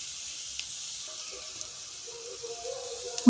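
Masala sizzling in a little leftover oil after paneer was fried in the pan. A faint, steady hiss runs throughout, with small stirring clicks and a sharper sound at the very end.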